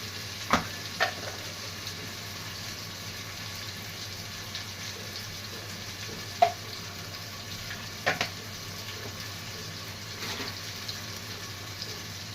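Chili and spices fry in a pan with a steady low sizzle, broken by a few sharp clinks of stirring, no voices.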